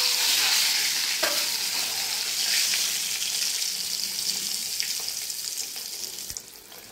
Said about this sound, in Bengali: ডিম দুটো ভেজে নেব।